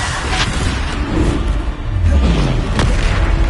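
A booming blast from the Bombarda explosion spell in the Hogwarts Legacy video game, heavy and loud over a dense layer of game battle noise, with a deep low rumble swelling in the latter half.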